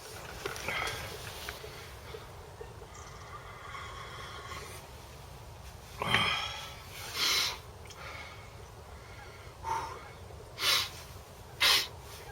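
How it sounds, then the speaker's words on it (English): Several sharp, wet sniffs from a person with a cold come at irregular intervals, close to the listener, over a quiet background. "I've got to be sniffing all the way till we go home"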